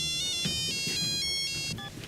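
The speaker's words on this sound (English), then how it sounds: "They are interrupted by a vaguely familiar phone. That's my dad's satellite phone." A satellite phone in the film Jurassic Park III plays its ringtone, a bright electronic jingle of repeating melodic beeps that carries on steadily for a couple of seconds.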